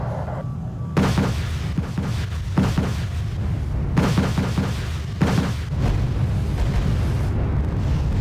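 Harrier air strikes in Wargame Red Dragon set off repeated heavy explosions, loud booming bursts arriving in quick succession with rumbling gaps between them and no talk over the blasts.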